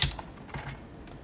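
Paper for a split panel card trimmed down to size: one sharp crisp snap of the cut, then faint light scraping and rustling, close and alone.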